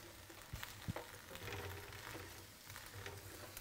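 Cauliflower and sugar snap peas are stirred in a pan of broth with lemon and thyme, giving faint, quiet stirring with a couple of light clicks over a low simmering hiss.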